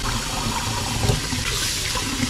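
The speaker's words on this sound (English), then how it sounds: "It should be ice cold water, but I'll just use the regular cold water." Cold tap water runs steadily from a kitchen faucet to rinse freshly blanched bright green vegetables, a continuous close splashing hiss with no talking.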